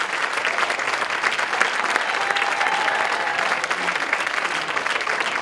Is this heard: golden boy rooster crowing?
no